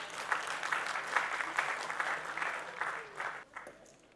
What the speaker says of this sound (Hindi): एक बार जोरदार तालियां हो जाए प्लीज।